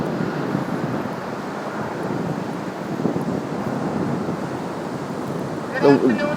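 Continuous ocean surf rumbling at Rockaway Beach, New York, during Hurricane Sandy, with wind buffeting the microphone, steady throughout, with a brief louder burst near the end.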